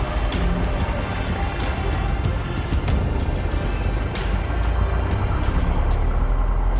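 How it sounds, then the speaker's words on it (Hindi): A car driving on a road, with a steady, loud engine and tyre rumble running continuously throughout, a few faint higher clicks and rattles on top, and no talk. "अब गाड़ी चलाना मेरे लिए पहले से कई ज्यादा आसान हो गया है।"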